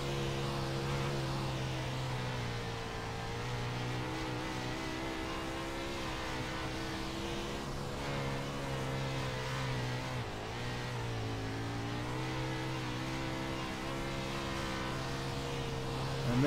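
A 410 winged sprint car roars around Volusia Speedway Park's dirt oval, its engine held at a sustained high-pitched drone that rises and dips slightly through the corners, heard onboard, loud and continuous with no talk.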